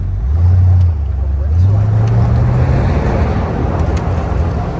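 A 1967 Dodge Polara convertible drives and fishtails, its engine a loud, steady low rumble that swells and shifts with acceleration, road noise running beneath it.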